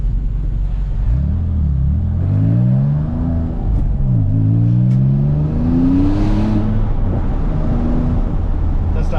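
Cheap 150K-mile Porsche 996 Turbo with engine problems and a suspected boost leak, engine revving and accelerating loud and close, pitch climbing through several gear changes with a steady rumbling drone.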